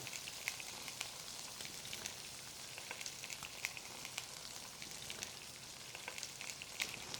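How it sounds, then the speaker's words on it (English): Steady, quiet crackling sizzle of fish frying skin-side down in a pan, with soft pops scattered throughout and no voices. "a sound that the fish is going to make when it hits the pan. A nice sizzle like that."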